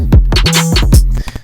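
Deep booming 808 bass notes that slide smoothly between pitches, a short loud phrase of gliding sub-bass with a few clicks on top.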